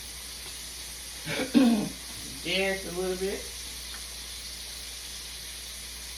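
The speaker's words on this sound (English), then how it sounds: "Those chops are frying." Pork chops fry in a pan on the stove with a constant soft sizzle and hiss beneath everything, and a person speaks briefly over it near the middle.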